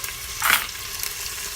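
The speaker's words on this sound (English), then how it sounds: "So I've been frying the potatoes, or sauteing the potatoes, onions" Potatoes and onions sizzling and frying in a hot pan, a steady crackle with a brief louder hiss as something is stirred.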